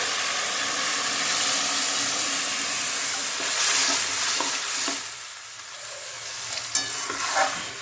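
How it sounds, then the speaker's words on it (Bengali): Pumpkin greens with prawns are stirred in a frying pan, giving a continuous loud sizzle with scraping stir strokes, then water is added, causing a hissing burst of steam that settles into quieter bubbling. "এক মিনিট মতো নাড়াচাড়া করে এরা জল দিয়ে দিচ্ছে"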